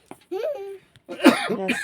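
A person coughing at home in a short burst of harsh coughs, close and loud, with voiced sounds between the coughs.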